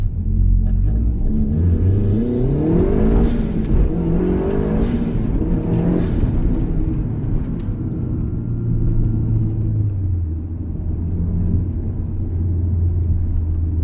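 A car engine revs up and pulls away from a stop sign, a deep rumbling roar rising in pitch as it accelerates, steady and close, with no voices.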